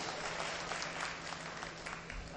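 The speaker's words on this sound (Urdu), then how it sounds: "ایک بار سب لوگ تالی بجا دیجئے ذرا" Audience at a mushaira poetry gathering clapping together, a dense, continuous round of applause from a crowd filling the whole stretch.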